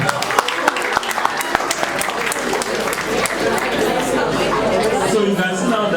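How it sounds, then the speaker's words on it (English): Secondary school students clapping for a classmate in a classroom, a loud, uneven burst of many hands with sharp individual claps, mixed with chatter and voices throughout. "Can we clap for her?"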